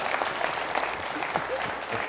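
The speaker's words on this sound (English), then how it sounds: "Please, a round of applause for this great man" Audience applause at a journalists' Democracy Day gathering, steady continuous clapping from a crowd with no gaps, moderately loud throughout.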